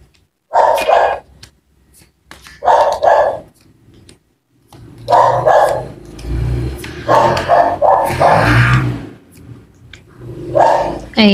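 A dog barks in several short bursts, fairly close, with a person talking in between and over some of the barks.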